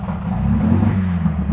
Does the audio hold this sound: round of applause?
no